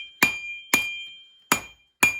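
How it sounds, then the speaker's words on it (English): Four ringing hammer blows on steel while forging a knife blade, close and sharp, with a slight pause before the third strike; each impact leaves a brief metallic ring. "Give your hammer blows,"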